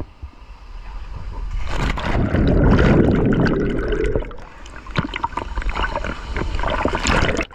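Water falling and rushing at a waterfall on the Pinsal River, a steady broadband roar that swells loudest midway, then settles into gurgling splashes with scattered sharper bursts.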